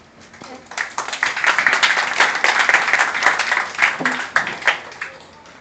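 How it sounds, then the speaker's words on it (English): A crowd claps steadily for several seconds, a dense, even patter of applause that swells quickly and holds without pause. "let's give him a big round of applause"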